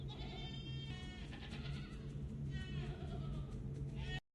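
Goats bleating in the office-set TV drama Severance, several overlapping calls over a steady low hum, with a faint voice in the mix.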